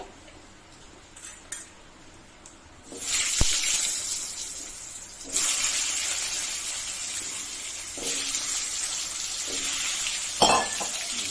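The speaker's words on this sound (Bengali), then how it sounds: "আলুটা ভাজা করবো" Potatoes frying in a pan for a Bengali fish-bone chorchori, quiet at first, then a loud hissing sizzle that swells and holds, with occasional sharp clinks of a utensil against the pan.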